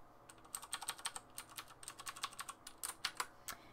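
Clicky keystrokes on a Razer BlackWidow Ultimate mechanical gaming keyboard, typed in quick, uneven bursts close to the mic, with no voices.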